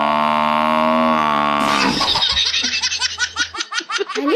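A buffalo in a 3D animated cartoon gives a loud, drawn-out moo lasting about two seconds. A burst of rhythmic giggling and laughter follows it.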